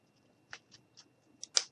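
Scissors snipping the fabric of a small gnome's jeans to make ripped denim, a few faint, quiet cuts spaced apart, then two sharper snips close together at the end.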